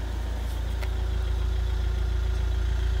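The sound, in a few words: Ford Mondeo mk4 2.0 TDCi diesel idling during DPF regeneration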